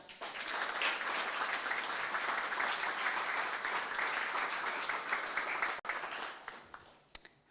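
Sustained applause fills a hall at a college graduation ceremony, many hands clapping steadily for several seconds before tapering off into a few last scattered claps.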